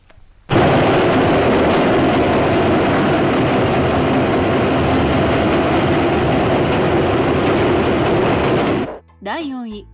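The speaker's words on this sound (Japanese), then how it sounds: "考える間もなく電車が大音量で通り過ぎ" A train roars past in a movie scene, a sudden loud, sustained rush of noise that stops abruptly before a short squealing tail.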